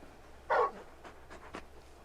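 Torgal, a large dog in Final Fantasy XVI, gives a short whimper followed by a few fainter whines and soft huffs, close and alone against a quiet low background.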